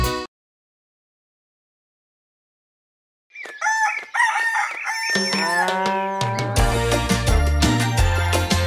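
A rooster on a farm crows clearly after a brief silence, its calls ringing out loud and close before a children's song with music starts underneath.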